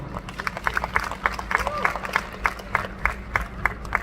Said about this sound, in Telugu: లీలావర్ణ గారికి గట్టిగా చప్పట్లతో.